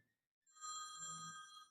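A telephone rings with a single steady electronic trill lasting over a second, fairly quiet and alone after a brief silence.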